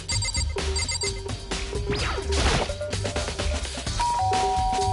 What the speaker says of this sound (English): I pressed the doorbell. Ding dong.